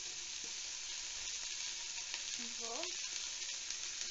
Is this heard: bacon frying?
yes